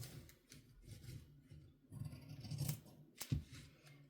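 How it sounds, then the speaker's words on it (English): Scissors snip through fabric to cut a sleeve cuff, a few quiet, close crisp cuts and rustles with a sharp snip near the end. "We're going to cut out the cuff for the sleeve hem, and then we're going to cut out the neckband."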